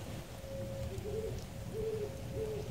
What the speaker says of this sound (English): Got a hoot owl close by